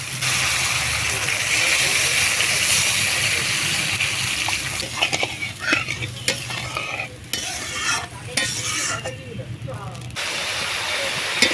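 Lote fish curry gravy with mustard paste and water boils in a pan, giving a steady loud hiss and bubbling that thins out into scattered stirring clinks and softer simmering near the end.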